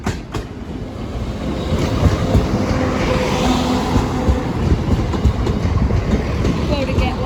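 A train rumbles past the Sleaford East level crossing, a loud close continuous roar with rhythmic wheel clatter on the rails throughout, with a voice faintly audible beneath it.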